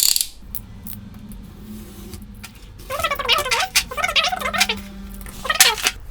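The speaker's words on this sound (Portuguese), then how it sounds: "E com o estilete eu vou fazer o corte." A utility knife cuts along a ruler, making a run of close, squeaky, ratcheting scrapes that rise and fall in pitch after a quieter start, with no talking.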